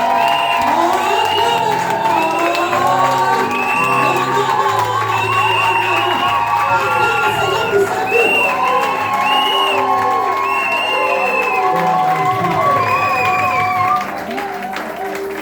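Loud church congregation cheering, whooping and shouting joyful acclamations to welcome an evangelist, a dense continuous roar of many voices with scattered clapping that drops slightly near the end.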